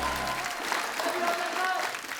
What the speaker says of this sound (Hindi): आप सबकी जोरदार तालियों के बीच सबसे पहले बुलाते हैं मिस्टर अजय देवगन एंड रकुल प्रीत सिंह।